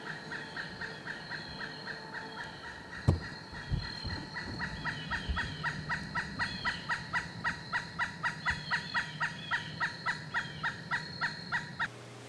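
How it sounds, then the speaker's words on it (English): Outdoors, a bird gives a long run of rapid, evenly spaced gobbling or honking calls, moderately distant and repeating steadily for several seconds, with a few thumps and faint background noise. "Whatever that bird is drives me insane."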